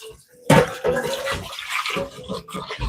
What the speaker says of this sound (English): So now I wash this pot out.